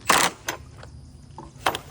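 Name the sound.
impact wrench tightening a nut on a dolly wheel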